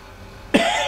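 A single sharp, close cough bursts out midway after near silence, trailing into a breathy, rasping tail. No one speaks.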